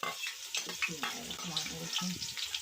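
A pan sizzles and crackles steadily up close as masala with ginger garlic paste fries, with scraping and stirring sounds and a faint voice murmuring underneath.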